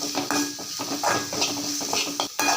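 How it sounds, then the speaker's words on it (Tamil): Turmeric, coriander leaves and mint stirred in a pan with carrots, a quick run of metal spoon clinks and scrapes against the pan over a faint sizzle, no voices. "இப்போ இதெல்லாம் நல்லா வதக்கிடலாம்"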